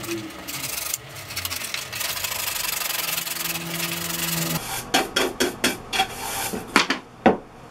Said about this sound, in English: I'm gonna take 100 grit and I'm gonna sand the edges of the letters